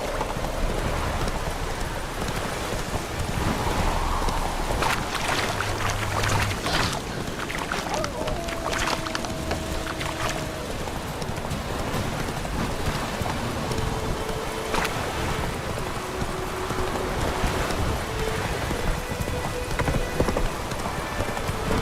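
Roach the horse gallops in The Witcher 3. The hoofbeats are a steady, rapid clip-clop that runs throughout, loud and close, with rain-like hiss and occasional game tones underneath.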